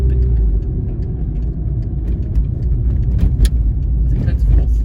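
A manual-transmission car climbs a hill in second gear, its engine holding a steady low droning rumble with some rattle heard from inside the cabin.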